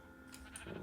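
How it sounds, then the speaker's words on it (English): A sheep bleats in a video game, giving a short, quiet digital bleat or two of under a second with faint background game ambience. "Get the sheep!"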